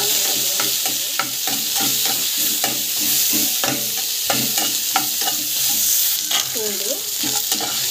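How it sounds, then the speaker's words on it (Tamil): Onion and green chili sautéing in hot oil, with a steady close sizzle broken by frequent rhythmic scrapes and clinks of a spoon stirring against the pan, and a brief spoken word near the start. "ஆயில் போட்டு ஆயில் நல்லா காய்க்கும். ஸோ ஆனியன், மிளகாய், நல்லா வந்து வதங்கும்."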